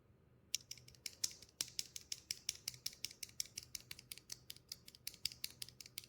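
Steady, fast typing on an Epomaker HE75 V2 Hall effect keyboard fitted with Creamy Jade switches, a run of crisp, evenly spaced keystrokes close up with no voices.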